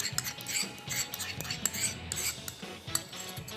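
Marinated chicken is mixed with cream in a bowl: a close, busy run of utensil scrapes and clinks with soft wet stirring, and nobody speaking.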